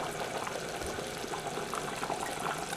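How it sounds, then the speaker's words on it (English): Rice bubbles vigorously in a pot on a large stove, a steady close hiss of boiling water with no talk over it. "my rice is now vigorously boiling"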